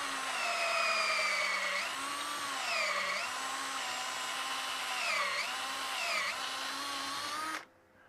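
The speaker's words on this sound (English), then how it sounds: "drill my depth hole" A steady high-pitched whine of an auger drilling a depth hole into wood spinning on a lathe, pitch dipping briefly under load several times, then cutting off abruptly near the end.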